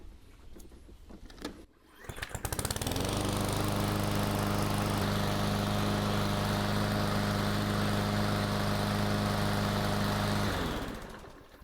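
A PowerSmart 22-inch budget walk-behind lawn mower engine starts up and runs at a steady, very loud drone, close to the front of the mower, with a low harmonic hum that holds constant before cutting off at the end.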